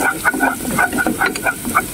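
Garlic sizzling in a pan for spaghetti bolognese sauce, with a continuous close frying hiss broken by the rhythmic scrape and clatter of stirring every few moments.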